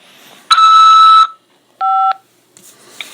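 Automated prison phone call system on a collect call from a corrections facility gives two electronic beeps: a long, loud steady tone followed by a shorter one after a pause, with faint line hiss around them.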